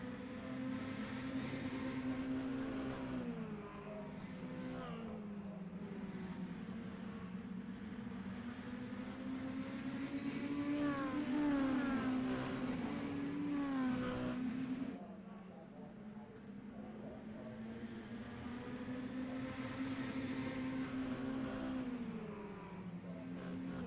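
Dirt mini stock race cars in iRacing drone and rev through the turns, engine pitch rising and falling in waves, with a commentator talking over the steady layered motor noise.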